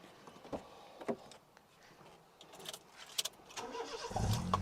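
A 2005 Honda Jazz with an automatic gearbox starts with a few short cranking bursts that catch at once. Its engine then settles into a close, steady idle, with some clicks and handling noises around it and no talk.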